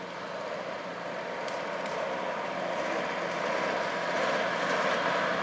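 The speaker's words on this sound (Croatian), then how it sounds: "Dolazi vatrogasna postaja Široki Brijeg." A fire brigade truck from the Široki Brijeg station approaches at an environmental fire scene, its engine a broad steady rumble that slowly grows louder over several seconds.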